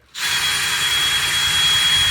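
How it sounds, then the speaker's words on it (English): A power drill bores a level hole through a house wall toward the outside during a range exhaust hood install, starting abruptly after a short silence and then running as a steady, loud, close-up whine and grind for the rest of the clip. "Drilling our level hole out to the outside."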